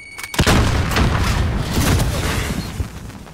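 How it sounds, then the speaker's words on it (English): A grenade goes off in a video game as one loud, close boom with a long rumbling tail, and more impacts and crackles follow under it. "Throw a grenade!"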